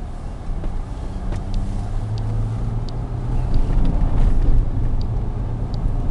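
A well-maintained used car drives slowly on icy roads, its engine droning steadily with a low rumble and road noise, a faint shift in tone as the transmission changes gear.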